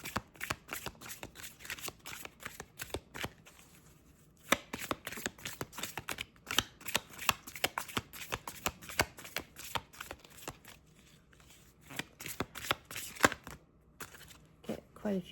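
Tarot cards being shuffled by hand up close, with rapid irregular riffles and slaps in bursts and brief pauses between them, quiet and crisp, with no talking.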